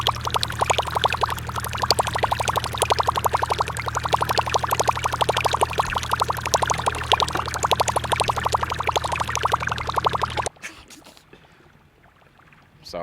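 A Googan Revolver topwater fishing lure is reeled across the water, giving a fast, even run of wet sputtering plops for about ten seconds before it stops abruptly, leaving faint quiet.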